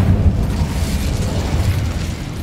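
A fire spell cast in the video game Hogwarts Legacy gives a sustained, loud, rumbling whoosh of flame that stays broad and steady through its short span, heavy in the low end like a continuous burst.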